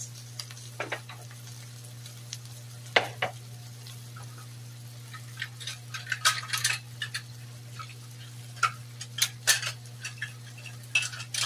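Shrimp sautéing with onion and garlic in a pan, a steady low hum under intermittent scraping stirs and light sizzle, growing busier toward the end.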